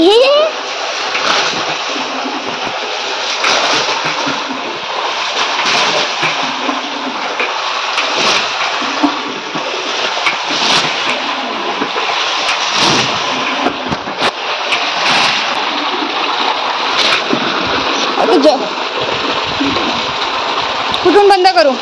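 Water gushes and splashes continuously in a loud, close, churning rush with repeated spatters, while voices talk over it.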